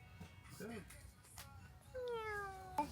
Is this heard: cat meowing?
yes